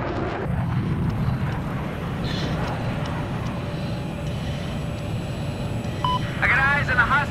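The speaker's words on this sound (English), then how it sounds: "I got eyes on a hostile jet." An enemy jet aircraft in the video game Battlefield, on the Hangar 21 map, gives off a steady roaring drone, moderately loud and continuous, under a voice talking, with a few electronic beeps near the end.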